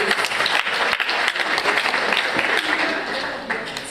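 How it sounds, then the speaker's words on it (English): Audience at a Kenya county budget transparency survey launch applauding steadily, a dense wash of many hands clapping for several seconds, with a voice faintly underneath. "I feel like that's a good place to applaud."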